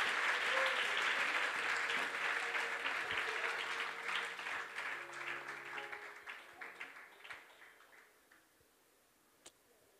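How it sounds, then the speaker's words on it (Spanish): A wedding congregation in a church claps for Christ, a full round of applause that gradually thins into scattered claps and dies away into near silence with one last clap. "A ver, esas palmas para Cristo, hermanos."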